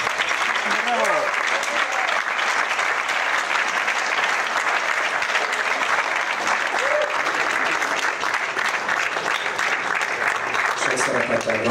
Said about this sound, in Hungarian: egy nagy tapsot is kérnék nekik.